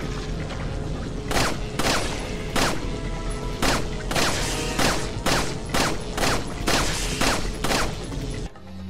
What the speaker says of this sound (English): I'm just gonna finish this off with the pistol